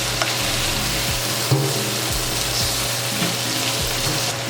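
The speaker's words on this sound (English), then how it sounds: "I'm adding my beef to my frying pan" Beef sizzles and fries in a frying pan with vegetables, a steady crackling hiss with occasional stirring clinks and scrapes close by, no talking.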